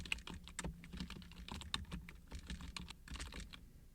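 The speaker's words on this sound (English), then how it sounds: "I'm going to type in" Fingers type on a computer keyboard, producing rapid, irregular key clicks close by with brief pauses throughout.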